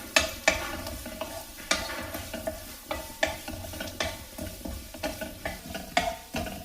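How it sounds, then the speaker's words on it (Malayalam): Sliced onion sautéing in a frying pan, with a steady soft sizzle under repeated scraping and clinking strokes of a spatula stirring against the pan, close and fairly loud with no voices. "അതിലേക്ക് സവാള ചേർക്കാം. ഇത് സാമാന്യം ഒന്ന് വഴറ്റിയെടുക്കണം."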